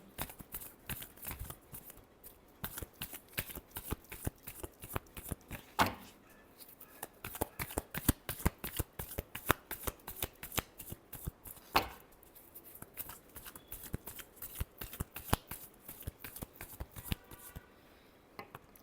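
Tarot cards shuffled steadily by hand in a long run of quick, crisp riffling clicks and slaps, close and fairly quiet, with two brief louder bursts partway through and no talking.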